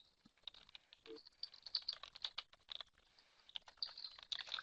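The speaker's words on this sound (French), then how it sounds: "Muriel tape la première petite question qu'on va vous poser" Soft, rapid clicking of computer keyboard keys as a question is typed out, quiet and close with uneven bursts and short pauses.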